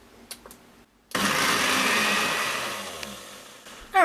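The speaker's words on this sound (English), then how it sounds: "Now I'm blend these until everything is nice and smooth" A kitchen blender whirs steadily for several seconds as it purées a low-carb sesame wing sauce until smooth, loud and close, with a few clicks before it starts and a rattle near the end.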